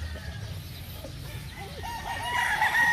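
A straight-comb brood stag rooster crows near the end over a constant background of clucking hens and farmyard noise, with the crow rising loud and close.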